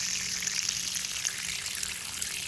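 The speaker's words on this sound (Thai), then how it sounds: "น้ำไหลแรงมากครับ ก็ให้น้ำใบกระเพรา" Strong water flow from a garden hose spraying onto basil plants, a continuous hissing rush that stays steady and close with no talking.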